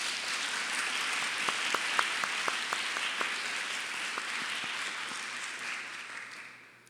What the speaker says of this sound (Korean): 우리 큰 박수로 감사의 마음을 전하겠습니다